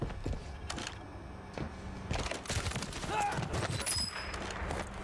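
Sniper gunfire in the Call of Duty Warzone video game, with a few sharp cracks and thumps scattered through a busy mix of game noise and voice chat, fairly quiet overall.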